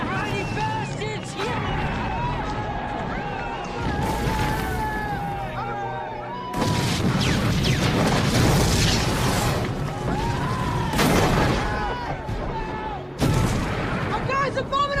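Booming explosions and gunfire in a World War I battle scene, with heavy blasts rolling under and between shouted voices, dense and loud throughout.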